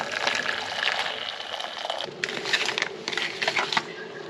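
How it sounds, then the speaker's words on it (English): Hot water pours steadily onto corn in a bowl for breakfast, a continuous splashing hiss over about four seconds with a few gurgles near the end, close and without talk. "I put hot water"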